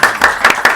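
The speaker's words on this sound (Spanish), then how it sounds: "Un aplauso." A few hands clap in quick separate bursts, about four sharp claps in under a second, close and fairly loud, as a live poetry audience starts applauding.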